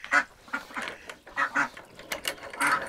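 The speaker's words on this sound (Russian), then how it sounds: "после охоты утки с селезнем находятся вместе." A handful of nasal quacks from decoy ducks and a drake in quick irregular bursts, close by and moderately loud, with no voices.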